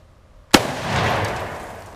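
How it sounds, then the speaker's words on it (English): Single sharp .308 gunshot from an Oviedo Mauser rifle, a sudden loud crack after near silence, then a long rolling echo fading away, with no voices. "The shockwave from the gun vibrated my entire arm"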